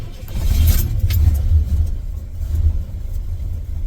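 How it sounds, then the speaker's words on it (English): A 1985 Chevy S-10 on a test drive gives a loud, close, steady low engine rumble, rising slightly as it pulls along. "I'm gonna give it a test drive."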